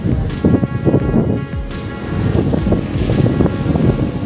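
Strong gusty wind buffeting the microphone, roaring and rumbling in waves throughout, loud and close with no voices.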